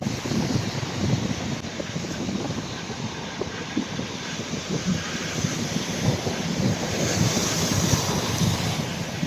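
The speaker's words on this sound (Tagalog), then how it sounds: "Pero ang alon, ang lakas, oh. Ang lalaki ng alon." Strong sea waves surge and crash under steady, gusting wind during a typhoon, a continuous loud roar of surf and wind buffeting the microphone with no pauses.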